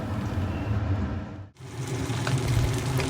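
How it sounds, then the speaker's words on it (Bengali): Bhola fish frying in oil in a pan, a steady dense sizzle with crackling throughout, briefly cut off near the middle before resuming just as strong. "দেখুন বন্ধুরা বাকি ভোলা মাছগুলো ঠিক একইভাবে ভেজে নেব"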